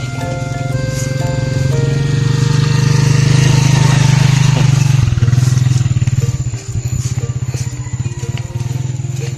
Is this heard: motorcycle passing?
yes